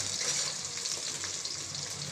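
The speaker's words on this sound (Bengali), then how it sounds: "ফার্স্টে পেঁয়াজ কুচিটা দিয়ে দিলাম" Chopped onion sizzles in hot oil in a pan, a steady, bright frying hiss that holds evenly throughout at close range, with no voices.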